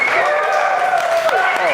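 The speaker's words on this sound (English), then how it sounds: "Can I get a practice round of applause, please?" An audience at a startup talk event gives a practice round of applause, a loud steady wash of clapping throughout.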